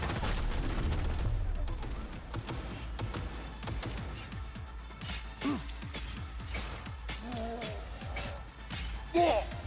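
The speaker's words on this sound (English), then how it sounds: "Heavy artillery!" Heavy artillery and gunfire in the Cyberpunk 2077 Phantom Liberty game, with a rapid burst of sharp shots followed by scattered blasts and crashes at moderate distance, plus brief shouted voices.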